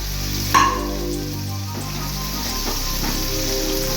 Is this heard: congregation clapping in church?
no